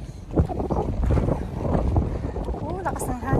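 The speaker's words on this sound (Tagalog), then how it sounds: "lakas ng hangin" Strong wind buffets the microphone outdoors in a loud, continuous low rumble, with people talking over it near the end.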